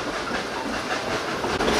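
The Dollywood Express steam train climbs a mountain in Pigeon Forge, Tennessee, giving a loud, continuous rushing hiss and rumble with faint rhythmic clatter from the rails.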